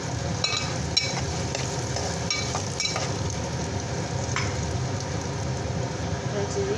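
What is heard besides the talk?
onions frying in pan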